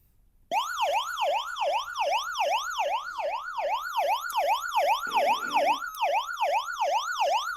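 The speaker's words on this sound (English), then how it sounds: "we can turn on a loud siren and an SOS flash mode" An Aivica SW/NOAA/AM/FM handheld emergency weather radio sounds its built-in siren, a loud, close electronic wail sweeping up and down in a rapid, regular cycle, starting abruptly after a moment of quiet and repeating continuously.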